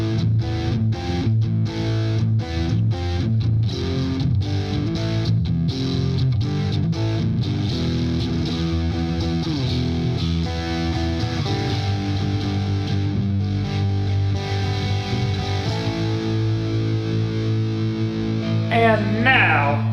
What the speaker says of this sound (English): So neck humbucker split and the middle single coil.